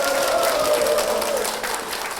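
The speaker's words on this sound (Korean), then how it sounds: "큰 박수로 한번 맞아보겠습니다" Loud audience applause from a church congregation welcoming a guest, dense continuous clapping from a full room that starts strong and eases slightly toward the end, with a murmur of voices beneath.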